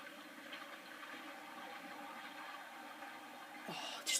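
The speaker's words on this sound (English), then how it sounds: "Oh, it's a river!" Flowing river water in a Minecraft-style video game, a steady broadband wash running throughout at moderate level, with a brief louder splash near the end.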